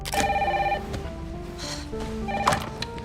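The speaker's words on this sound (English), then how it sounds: "Then the phone rings." A telephone rings in a dramatized story scene, with repeated bursts of bright electronic trills sounding near and clear, interleaved with soft thuds and background movement, no voices.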